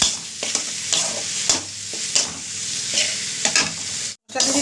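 Ginger and green chili paste fries in a pan for a chickpea ghugni while a utensil stirs it, loud close sizzling broken by scraping strokes and a brief pause near the end.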